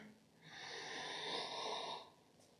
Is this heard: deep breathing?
yes